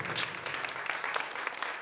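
Audience applause at a religious gathering: a dense, even spread of many hands clapping, moderately loud and steady throughout, with a faint voice underneath.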